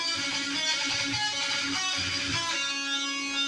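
Electric guitar plays a riff, a dense sustained distorted line of repeated notes on the third and fourth strings, loud and continuous with no talking.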